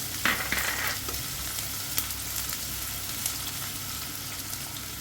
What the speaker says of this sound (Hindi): इसे हल्का गुलाबी भून लेंगे।